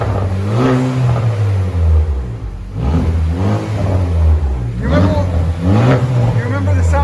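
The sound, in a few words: 2019 Chevy Malibu turbo engine revving with straight-pipe exhaust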